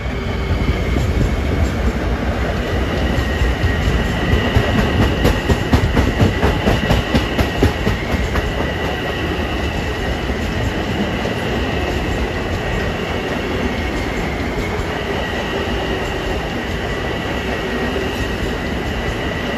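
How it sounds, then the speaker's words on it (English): A Long Island Rail Road train passes Elmont station on its run from Hempstead to Atlantic Terminal, a loud steady rumble of wheels and cars with rhythmic clacking over rail joints lasting the whole stretch. "Here comes 757 from Hempstead to Atlantic Terminal."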